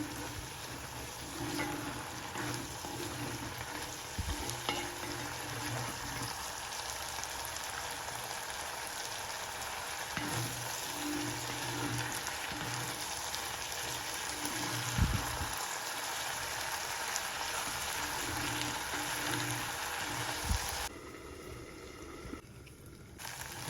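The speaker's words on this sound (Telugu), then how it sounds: "బాగా ఆయిల్లో వేగనివ్వాలా కలుపుకుంటూ ఉండాలి" Sprouted green peas fry in oil in a pan, making a steady dense hiss and crackle that holds for over twenty seconds, with faint occasional stirring knocks and no speech.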